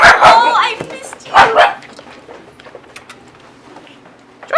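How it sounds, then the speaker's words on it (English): Dogs bark twice, sharp and close, and then lighter yips and whimpers follow, with a person talking over them. "What are you barking at?"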